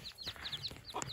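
Farmyard hen in a chicken coop where turkeys are being let out, giving a quick run of sharp, close clucks and squawks over faint background noise.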